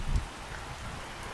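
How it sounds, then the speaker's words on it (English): Heavy rain falls steadily outdoors on a hillside path during a long downpour, a dense continuous hiss with a brief low rumble at the start and no talk. "It's rained non-stop for, I don't know, 15 hours now."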